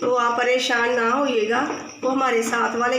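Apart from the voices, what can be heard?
None of the usual background noises is heard.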